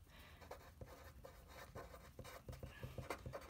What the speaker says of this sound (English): So let's write that by saying